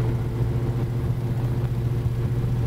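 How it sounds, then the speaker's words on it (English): A 1970 Chevrolet Chevelle's exhaust rumbles at idle, a deep steady low throb that stays even and close throughout the short stretch, with no voices over it. "That exhaust system's working awesome too."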